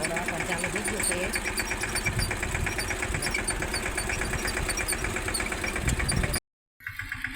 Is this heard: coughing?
no